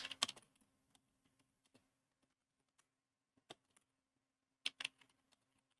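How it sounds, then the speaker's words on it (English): Sparse bursts of typing on a computer keyboard while entering a chat message, with a quick cluster of keystrokes at the start, scattered single clicks in between, and another short flurry near the end, close and clear with no talk. "And just like any kind of traditional chat room, you can type in a message."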